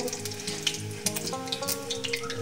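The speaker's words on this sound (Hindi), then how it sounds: "तेल अच्छी तरह से गर्म हो चुका है तो चलिए अब हम लोग इसमें कुछ दाने सरसों के डाल लेते हैं" Mustard seeds crackle and sizzle in hot oil for a soyabean vegetable dish, a steady close frying hiss with popping bursts and a faint background tone.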